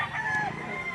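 A rooster crows once at a Lipa poultry auction market, a short, loud, nearby call with a rising then falling tone that stands out clearly over the low noise of the market.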